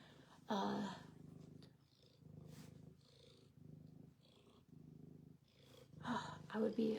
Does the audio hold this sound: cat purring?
yes